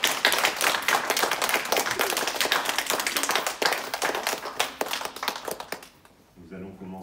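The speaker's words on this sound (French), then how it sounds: "Vous pouvez les applaudir très fort." Dense, sustained applause from a crowd at a musical show, many hands clapping steadily for several seconds before fading out, with a brief bit of music at the end.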